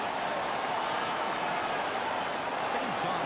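Hockey arena crowd roaring and cheering as the home team dominates the visitors, a dense, steady wash of noise filling the whole clip with no clear breaks.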